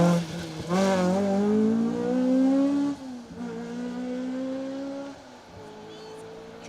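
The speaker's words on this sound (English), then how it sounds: "That's I think a Shane Williams prepared car from what I understand, the Escort RS 1800." A Ford Escort RS 1800 rally car, prepared by Shane Williams, roars past on an asphalt stage of Rally Ceredigion, its engine loud and close as it revs up, shifts gear and pulls away into the distance.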